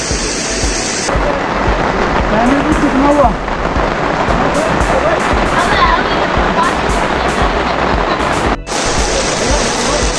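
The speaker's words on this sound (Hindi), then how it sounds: "सोनमर्ग में यहाँ पर पड़ गई बारिश" Steady broadband rain hiss in Sonamarg fills the scene, loud and continuous, with voices talking faintly underneath and a brief dropout near the end.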